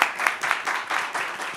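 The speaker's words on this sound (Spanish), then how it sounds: "Un fuerte aplauso, por favor." An audience at a fashion collection presentation claps in a short burst of rhythmic applause, moderately loud and without cheering.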